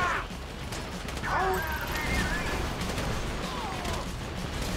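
Video game gunfire from Grand Theft Auto 5, a dense fusillade of shots and crashes in a chaotic firefight, steady and loud throughout with faint voices mixed in.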